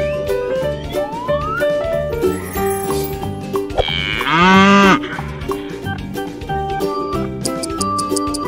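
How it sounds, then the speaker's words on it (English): A cow moos once, a loud, drawn-out low call near the middle, over a busy backdrop of tinkling bells and light music. "Cow."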